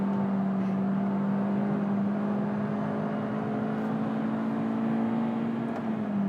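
A 2022 Kia Picanto's 1.2-litre engine revs toward 7000 rpm as a steady, droning note that climbs gradually and holds, then eases off at the very end, heard from inside the small car.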